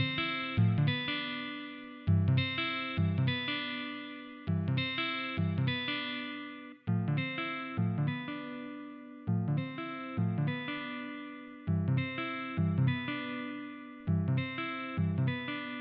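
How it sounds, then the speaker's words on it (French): An electric guitar played through an amp effect, repeated chords with bright, slightly distorted tone and soft chorus shimmer, steady rhythmic strums with no talking. "je vais le modifier premièrement avec un amplificateur qui va rendre le son de cette guitare plus électrique"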